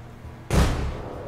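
Frag grenade exploding against a propane tank in the tactical shooter Door Kickers 2, one sudden loud blast with a deep boom that quickly fades into a short rumbling tail.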